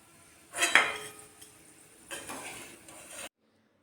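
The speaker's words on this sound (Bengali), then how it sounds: "ভেজে নেওয়া আলুগুলোর আওয়াজটা শোনাই গেল" Crisp fried shredded potatoes tipped onto a plate, two brief bursts of dry clinking and rattling about a second and a half apart, close by and with no talk, then silence.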